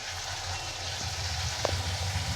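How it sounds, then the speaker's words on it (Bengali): Ginger-cumin paste fries in oil in a pan with fried potatoes, a continuous soft sizzle with low bubbling underneath and a single faint tap near the end. "আদা জিরে বাটাটা একটুখানি অল্প করে নাড়িয়ে নিয়ে ভেজে নিয়ে"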